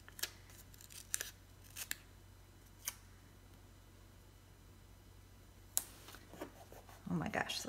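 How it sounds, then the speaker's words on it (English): Scissors snip through printed photos in a series of sharp, isolated cuts spread irregularly across a quiet room, with a quicker cluster of rustling snips at the end. "I'm gonna just cut these off."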